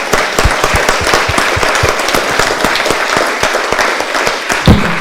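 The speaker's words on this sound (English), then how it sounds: "Let's give them a round of applause for their hard work." A room of people applauding town employees at a State of the Town gathering in Florence, loud dense clapping sustained throughout with a few sharper claps standing out.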